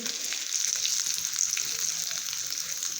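Tempering sizzles in peanut oil, a continuous close hiss and crackle of frying with occasional soft stirring sounds and no speech.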